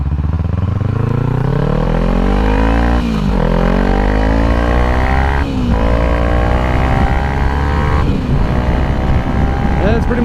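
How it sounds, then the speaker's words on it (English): A 2014 Kawasaki Ninja 300 ABS motorcycle engine pulled hard at full throttle, its pitch rising steadily through three quick gear changes, loud and close with wind rush throughout. "That's pretty much full throttle."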